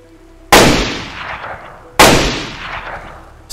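Two loud gunshots ring out in the survival game DayZ, each a sharp crack followed by a long decaying echo, spaced about a second and a half apart.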